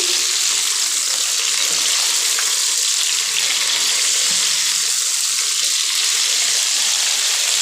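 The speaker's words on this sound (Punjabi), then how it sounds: "ਗੋਭੀ ਨੂੰ ਆਪਾਂ ਹਲਕੀ ਜਿਹੀ ਬਰਾਊਨ ਹੁੰਦੇ ਤੱਕ ਪਕਾ ਲਵਾਂਗੇ ਫਰਾਈ ਕਰ ਲੈਣੇ ਆ ਗੋਭੀ ਨੂੰ" Cauliflower frying in oil until light brown, giving a loud, dense, continuous sizzle that holds steady and close from start to finish with no pauses.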